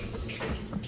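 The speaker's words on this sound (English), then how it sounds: "get my hand wet with just a little bit of water, and then see how that's popping?" Water flicked from a wet hand into hot frying grease in a skillet before fish goes in, giving a continuous close hiss and crackle of sizzling and popping oil.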